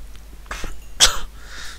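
A single sharp cough from someone with a cold, close and fairly loud, following a softer breathy throat sound.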